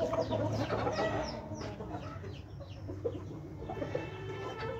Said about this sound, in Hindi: पांच लाख का मुर्गा है जी ये